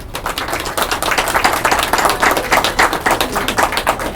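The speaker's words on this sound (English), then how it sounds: "we'll give you a round of applause as you accept that certificate" Dense, lively clapping from an audience for an award recipient accepting a certificate at a school music recognition event, steady and close for a few seconds.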